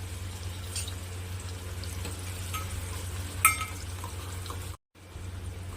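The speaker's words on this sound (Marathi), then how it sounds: "आता यामध्ये ॲड करू आपण आणि कांद्याला छान परतून घ्यायचं आहे" Finely chopped onion fries in oil for zunka, a steady close sizzle with stirring, one sharp clink of a spoon midway and a brief dropout near the end.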